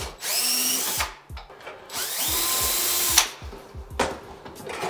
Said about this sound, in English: I cut the Allen key in half and stuck it in my drill